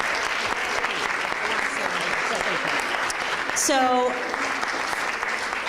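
Steady applause from an audience fills the room throughout, honoring veteran Harvey Weiner at a 2013 Veterans Day program, with a brief spoken word rising over it near the end.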